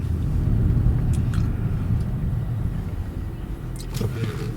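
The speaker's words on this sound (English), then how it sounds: "do you feel a menacing sort of growl and rumble from that big V8" A 2004 Mercedes-Benz CLK500 AMG's big V8 gives a steady, low growling rumble from inside the moving car, continuous and moderately loud with faint higher noises on top.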